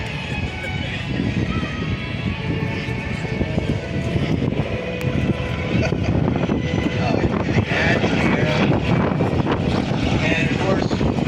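The DC-3 Flagship Detroit, a vintage propeller airliner, flies past at the Dayton Air Show, its piston engines droning steadily and swelling slightly as it approaches, with crowd noise and talk around.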